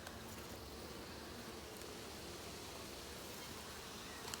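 Honey bees on a starter hive frame give off a continuous soft buzzing drone, faint and even throughout, with no talking.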